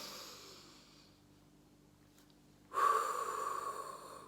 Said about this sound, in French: donc vous inspirez